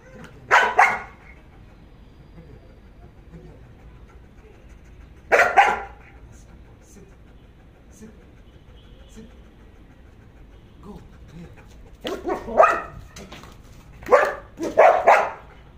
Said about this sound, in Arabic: بقول له ينبح بينبح